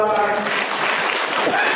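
Audience applause at an agricultural university farmers' event, a dense wash of clapping with a voice speaking briefly over the start.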